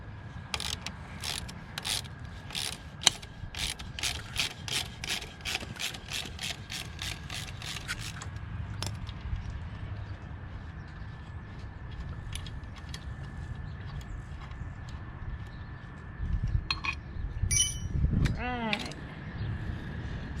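A socket wrench ratchets in quick rapid clicks while loosening a Toce baffle bolt, followed by quieter handling and mechanical rattling later on, close up with occasional background noise.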